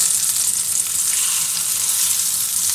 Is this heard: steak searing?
yes